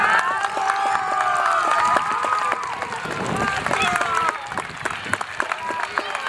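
Children clap together during a visit to a fire brigade station, a dense, lively patter of applause mixed with excited young voices and shouts throughout.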